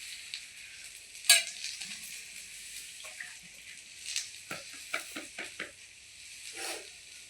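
Dhapate flatbread frying on a hot tawa griddle, a steady soft sizzle running throughout with a sharp scrape near the start and light clinks from stirring or handling, with no talk.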